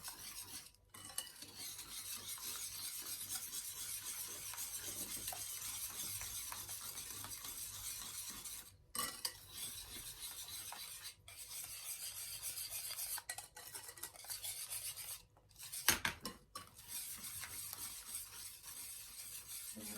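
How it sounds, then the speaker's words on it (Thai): Whisking banana cake batter in a bowl makes a steady, quiet scraping rasp that runs almost continuously, broken by a few short pauses. No talk is heard. "ตีให้เข้ากัน"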